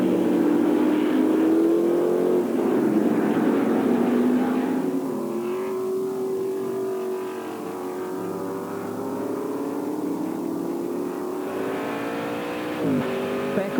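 F5000 race cars lapping Ruapuna circuit, a loud engine note from on board that rises and falls through gear changes and throttle lifts, held steady and close throughout.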